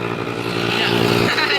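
A mini motorcycle is ridden past in a short burst, its buzzing engine loud and close with a slight rise in pitch. Voices can be heard under it.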